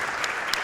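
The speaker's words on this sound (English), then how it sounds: "Clap for that one." An audience at a live speedrunning charity event applauds in a steady, dense wash of clapping for under a second, with no talking over it.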